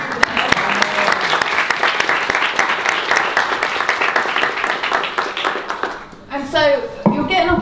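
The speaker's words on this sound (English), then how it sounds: "So yes, round of applause." Audience applause after a talk on poverty experiences in Colombia: dense, steady clapping from a sizeable crowd for about six seconds, then fading as voices and speech take over near the end.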